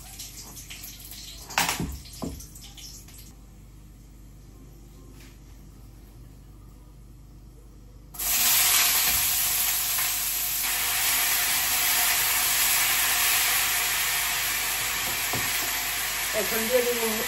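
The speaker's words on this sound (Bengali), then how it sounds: "তেল দিয়ে দিলাম, দুটা শুকনো মরিচ দিয়ে দিলাম ছিঁড়ে।" Torn dried chillies hit hot oil in a home kitchen and burst into a loud, steady sizzle after a quiet stretch with a few clanks, frying continuously to the end.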